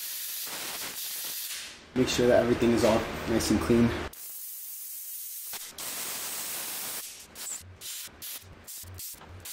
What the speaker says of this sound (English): Now I'm just coming in and spraying some air through all the journeys of the crank.